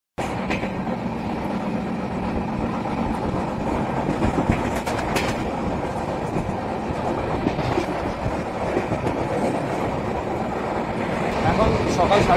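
The Amritsar Mail passenger train runs on the rails between Howrah and Varanasi, heard from inside as a steady rumbling roar with faint rhythmic wheel clatter, continuous and close throughout.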